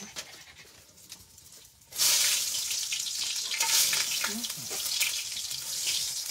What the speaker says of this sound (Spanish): vamos a echarle esta cebolla al chile